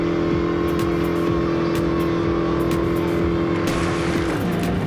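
Car engine droning and revving steadily while doing donuts in the Real Racing 3 mobile racing game, a continuous loud motor tone that shifts pitch near the end, with tire noise underneath.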